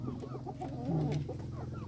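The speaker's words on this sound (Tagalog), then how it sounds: "Nandito ang mga manok." Chickens cluck on a small home farm, several close, soft rhythmic clucks and short calls over a low background hum.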